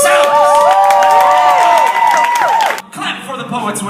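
A packed crowd at a teen poetry festival roars with cheers, whoops and applause, loud and sustained, then drops abruptly near the end into a lower murmur of clapping and voices.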